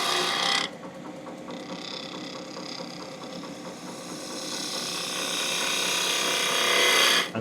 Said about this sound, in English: So with my 3/8 spindle gouge, I'm going to roll it right over onto its side